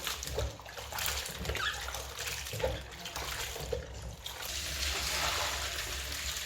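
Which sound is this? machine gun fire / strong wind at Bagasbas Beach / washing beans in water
washing beans in water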